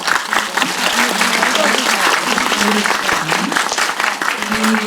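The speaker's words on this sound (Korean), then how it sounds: "좀 많이 좀 같이 함께 좀 박수를 쳐주셨으면" An audience at a post-screening talk event for the Korean film Concerning My Daughter applauds loudly and steadily, with faint voices running underneath the clapping.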